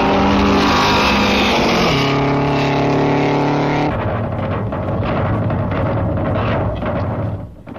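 Vintage 1920s race cars with a blue French car among them battle closely on a track, a loud, continuous engine roar that shifts pitch as the cars pass, set against music.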